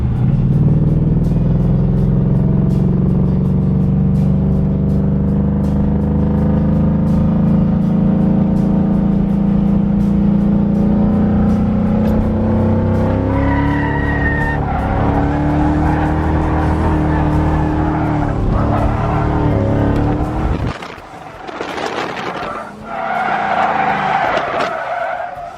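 A Nissan 240SX hatchback drifts on a fast road course, its engine roaring loud and close while the tires squeal through a long slide, then a brief lull and a rough burst of skidding near the end.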